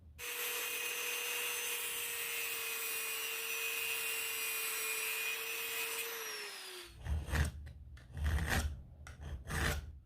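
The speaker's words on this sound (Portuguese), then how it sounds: "Eu vou utilizar uma lixadeira para fazer o procedimento" A handheld sander cuts into metal along marked reference lines, first a long, steady, high whine that drops in pitch as it winds down, then several loud, gritty bursts of grinding contact, close and with no voices.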